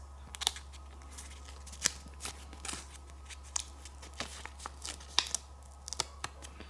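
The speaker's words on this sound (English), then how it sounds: "You can just peel this." A cut vinyl sticker peeled slowly from its backing, with faint, irregular crinkling and small tearing ticks over a steady low hum.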